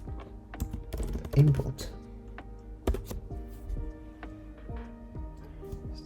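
Keys on a computer keyboard click in short, uneven bursts at close range, with someone talking softly in between.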